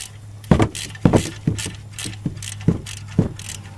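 Ratchet working loose 11mm bolts on the exhaust of a 2001 Chevy 2500 truck, a series of sharp metallic clicks and clunks in an irregular rhythm, close and clear with no talking.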